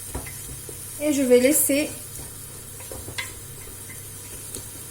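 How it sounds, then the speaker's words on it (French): Meat frying in a pan with onions and tomatoes sizzles softly and is stirred now and then, a faint steady hiss with a brief scraping stir, while a person speaks briefly over it. "je viens de temps en temps tourner ma viande, comme ça"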